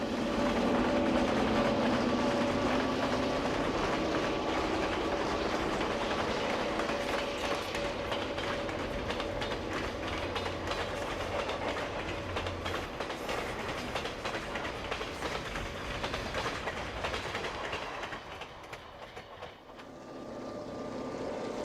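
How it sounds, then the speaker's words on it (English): Union Pacific westbound train rolling across the Dale Creek Fill in the early 1960s, a loud continuous rumble and clatter of cars that fades slightly near the end. "This westbound train is running on the Dale Creek Fill."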